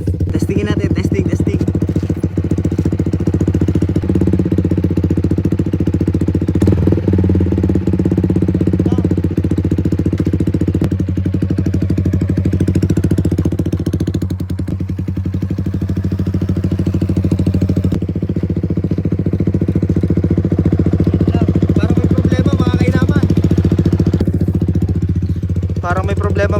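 A motorcycle engine idles loudly and continuously during an idle test, its steady rumbling drone rising and dipping slightly as the revs fail to settle, with someone talking over it.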